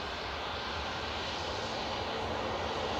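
A 27-year-old Jet2 Boeing 757 rolls for takeoff at Manchester Airport, a steady broad engine roar held at constant loudness throughout, heard from a distance with no talk over it.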